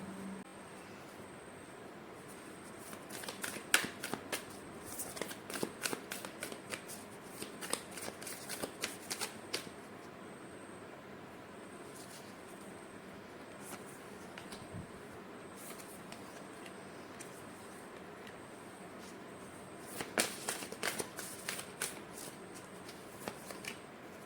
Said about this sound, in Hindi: के लिए ओरेकल कार्ड निकालते हैं